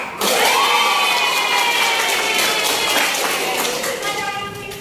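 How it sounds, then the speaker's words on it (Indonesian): Students in a classroom clap and cheer for their teacher, a lively burst of applause with shouting voices, close and sustained throughout. "Tepuk tangan buat Bapak."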